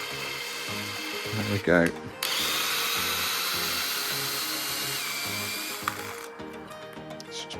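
A drill bit bores slowly through a plastic RPM arm from a Rival MT8 RC basher, a steady high grinding whine running for several seconds with a brief rattling pause near the start and someone speaking briefly.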